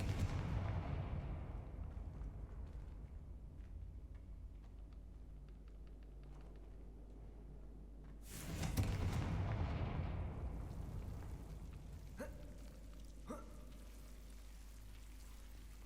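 Explosive spells from a Harry Potter video game going off: a quiet ambient bed broken by one sharp, booming blast midway, followed by two smaller cracking impacts, with no speech.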